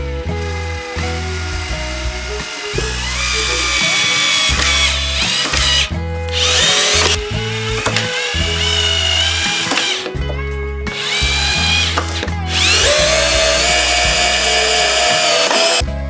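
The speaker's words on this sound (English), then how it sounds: "going to allow me to drive the screw all the way through and into this 2x4" A Bosch Flexiclick cordless drill drives a screw into a 2x4 in repeated loud whirring bursts, each winding up in pitch and stopping briefly before the motor runs again, with no talk over it.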